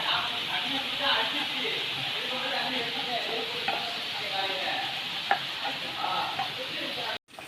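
Masala is stirred into hot oil in a pan, giving a continuous close sizzle with soft scraping and stirring. A voice is faintly heard underneath before a sudden cut near the end.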